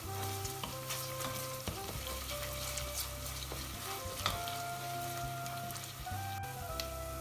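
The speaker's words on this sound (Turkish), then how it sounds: "domates salçası, bir tatlı kaşığı da biber salçası koyuyorum. Onları da güzelce kavuralım." Tomato paste and pepper paste sizzle and sputter steadily in a hot pan while being stirred for a bulgur meatball and chickpea stew, a close, continuous frying crackle with occasional scraping of the utensil, no voices.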